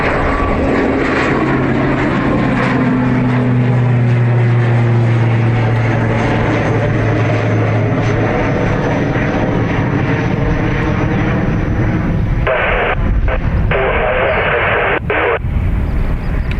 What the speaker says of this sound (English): Fast taxi from Aer Lingus.